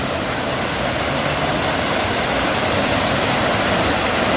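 A steady, roaring rush of a waterfall at a valley campground in Hongcheon, South Korea, broad and constant, close by with no pauses.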